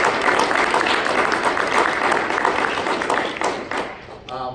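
Sustained applause from a crowd at a Legacytouch company healthcare meeting, dense and steady throughout, thinning near the end as a voice starts to speak.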